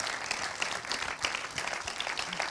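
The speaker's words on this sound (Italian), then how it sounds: "Facciamo un applauso a Bruno soprattutto" A seated audience claps for Bruno at a public talk, the applause fairly faint and distant, a steady patter of many hands with a few louder individual claps.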